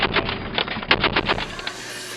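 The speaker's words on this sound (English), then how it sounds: "We're getting ready to drop some rounds right inside that valley there." Military automatic gunfire pours rounds into a valley, a rapid burst of repeated, muffled shots that tapers off into a lingering rumble, with no speech.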